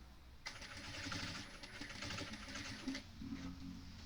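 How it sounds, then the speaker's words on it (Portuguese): A sewing machine stitches fabric along the corner seam of a box bag in one steady, close motorized run of about two and a half seconds, then stops, with quiet room noise around it. "E venho costurando aqui, tá? Bem no cantinho."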